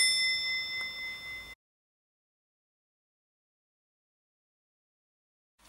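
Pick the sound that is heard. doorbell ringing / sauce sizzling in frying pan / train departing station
doorbell ringing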